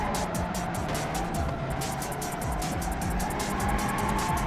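Car drifting through a tunnel in a racing video game, all-wheel-drive car, with steady engine drone and continuous tire squeal filling the whole stretch, loud and close.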